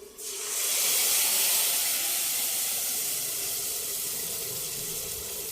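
Horse gram soup (ulavacharu) poured into a vessel, a steady close hissing, splashing rush that starts abruptly and stays even throughout, with no voices.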